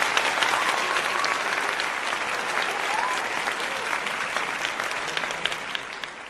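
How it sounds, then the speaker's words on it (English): Applause sound effect, a dense, even wash of many hands clapping that carries on steadily throughout at moderate loudness. "Let me give you your applause, gang."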